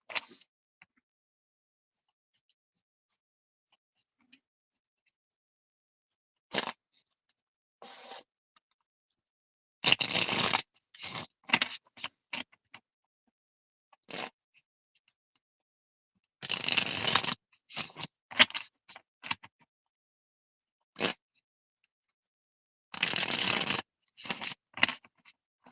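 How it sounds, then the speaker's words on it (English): Tarot cards are shuffled in several separate bursts, crisp riffling and sliding sounds close to the listener, with near-silent gaps between them and no speech. "I'm shuffling your cards right now."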